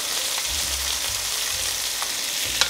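Potatoes sizzle steadily in a frying pan, a constant close crackle with faint scraping as they are stirred and a couple of sharp clinks near the end.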